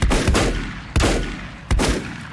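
Three loud gunshots ring out in the video game Volcanoids, one near the start, one at about a second and one near the end, each a sharp crack with a long decaying tail and no talking.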